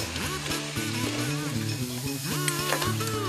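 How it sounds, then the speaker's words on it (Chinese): Near-1000-degree serpentine stones dropped into a stone hotpot soup of fish, shrimp, ginger and rice wine, raising a loud, continuous sizzle and boil under a steady tonal hum, with no speech. "接着放入近1000度的蛇纹石"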